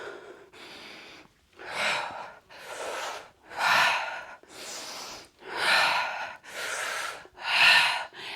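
Heavy exhaled breaths during a standing balance workout, about eight forceful breathy puffs in a slow, even rhythm, close and clear with silence between them.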